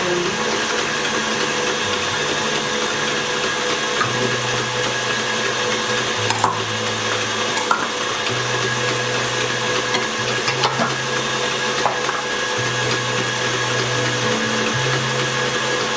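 An electric mixer drones continuously, beating vanilla sugar cookie dough with eggs. Its whine shifts pitch as the load changes, with faint knocks from the bowl.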